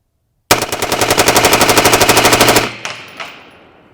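An M4/M16-type machine gun fires a single full-auto burst of about twenty rapid, evenly spaced shots at roughly 730 rounds per minute, very loud and close, followed by echoing decay.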